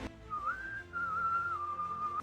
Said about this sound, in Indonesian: Nampak seorang pemuda yang bersiul-siul mendekati sebuah warung.